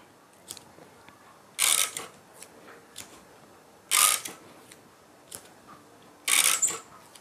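Scissors cutting through a fabric pattern piece in three distinct, close, crisp snipping bursts, separated by quiet gaps with faint light handling clicks.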